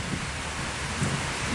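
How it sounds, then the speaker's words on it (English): Steady rain falls outdoors beside a tree house, a continuous broadband hiss with a soft, uneven patter and no voices. "we're standing here waiting for the rain to pass"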